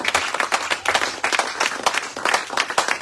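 A church congregation claps and applauds for the Lord Jesus, a dense, steady burst of many hands close by, sustained throughout with no talk.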